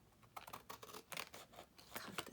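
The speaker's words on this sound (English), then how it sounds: "I'm going to take my bigger scissors here" Large scissors snip through material in a quick series of crisp, close cuts, faint and uneven, with no talking.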